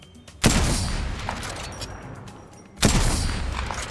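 Weapon fire from Apex Legends gameplay sounds as two heavy, booming shots roughly two seconds apart, each with a long rumbling tail, loud and close.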